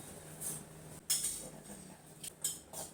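Hot pasta being served onto a plate with cutlery: a few quiet clinks and scrapes of metal against the dish, close by, in short separate bursts.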